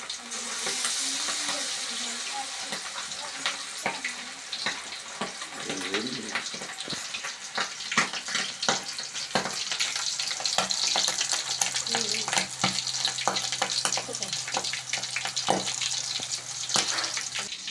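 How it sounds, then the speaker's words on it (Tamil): Squid pieces fry in hot oil with a steady, crackling sizzle that runs the whole time, broken by frequent sharp pops and spatters, and scraping utensil sounds stand out in places. "இப்போ கனவா மீன் எடுத்து பொறிக்க போகிறோம்"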